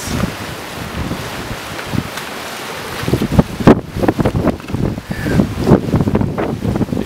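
Wind buffets the microphone near the ocean at a rocky coastal spot, gusty rumbling bursts growing stronger over a background wash of surf, with no one talking.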